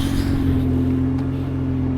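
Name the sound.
old BMW engine idling after a cold start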